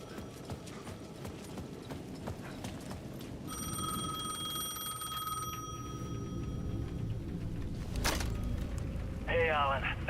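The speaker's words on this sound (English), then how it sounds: "The payphone at the edge of the plaza was ringing again." A payphone rings at the edge of a plaza in the video game Alan Wake 2: a sustained electronic ring over footsteps and ambient game noise, with a short voice near the end.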